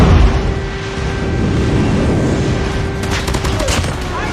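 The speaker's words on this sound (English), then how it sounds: "Enemy airstrike incoming." Enemy airstrike explosions in a multiplayer shooter game rumble with heavy, dense blasts and bursts of gunfire, loud and continuous, ending in a cluster of sharp cracks.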